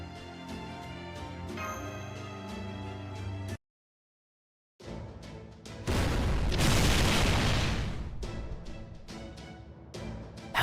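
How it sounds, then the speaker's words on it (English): A cannon fires in the Fate/Grand Order video game: a burst of music and tones, a brief silence, then a loud, sustained booming blast that fills the sound before easing off. "How do you like my little cannon here?"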